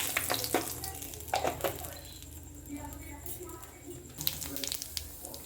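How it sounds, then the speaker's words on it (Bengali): Dried chili, bay leaf and whole cumin seeds sizzle quietly in hot oil for tempering, a soft crackling fry with occasional clinks and scrapes of utensils. "এবার আমি ফোড়নে লঙ্কা আর তেজপাতাটা দিয়ে দেব আর একটু গোটা জিরে দেব"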